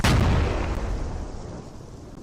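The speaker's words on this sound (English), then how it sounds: "pretty impressive explosion. The MAT-V is on fire." An M-ATV armored vehicle blows up in the military shooter game Squad, a loud, close explosive blast with a heavy low rumble that slowly decays, heard alone.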